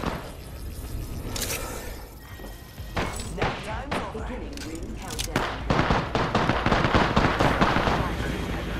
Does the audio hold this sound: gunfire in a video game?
yes